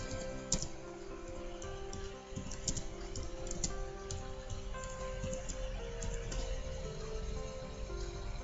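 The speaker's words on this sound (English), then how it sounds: "just type in one of the videos there" A video title is being typed on a computer keyboard. The keys give rapid, light, close clicking throughout, over a steady low room hum.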